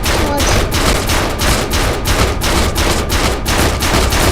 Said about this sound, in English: 2 of them are going to be shooting him in the body.